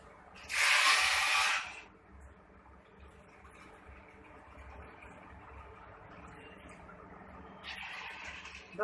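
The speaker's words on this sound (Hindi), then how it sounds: "और अब इसमें पानी डालूंगी मैं।" Water poured into a cooking pot for boiling macaroni on a home gas stove: a loud, broad splashing rush for about a second near the start, a quieter steady hiss and room noise after, and a second short pour near the end.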